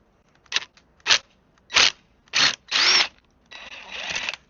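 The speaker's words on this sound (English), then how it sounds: "I've got a long Phillips screwdriver. Put that into the impact wrench." Impact wrench fitted with a long Phillips screwdriver bit working a bolt on vintage Honda motorcycle forks, five short loud hammering bursts separated by pauses, then a longer steady buzz, close and without talk.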